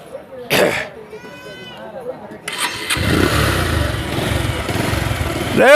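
A Pulsar 150cc motorcycle engine starts after a voice, then settles into a steady close idle with a low rhythmic putter, while people talk over it.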